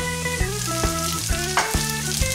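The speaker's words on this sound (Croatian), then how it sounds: "I staviš unutra pržiti ovaj zeleni papar." Green peppercorns fry in a couple of spoonfuls of oil in a pan for a steak sauce, giving a loud, continuous sizzle with music playing behind it.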